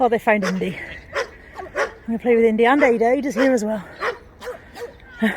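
An excited dog at the vet, barking and whimpering in high yips and whines, close and frequent, mixed in with a person talking over it.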